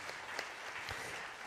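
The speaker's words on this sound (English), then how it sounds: "Let's give them a big hand of applause." Quiet applause from an audience at a library festival event, a soft, steady patter of hands with a few sharper claps, heard at a distance and fairly faint throughout.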